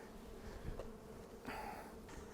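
Bees buzz around a beehive being set up, a low steady hum with a couple of swells as insects pass close by, heard alone at fairly low level.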